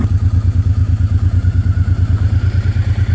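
A 1989 Honda Transalp with a modified stock exhaust runs steadily at 4,000 RPM, its close, loud engine throbbing in an even, rapid pulse with a faint mechanical clatter over it.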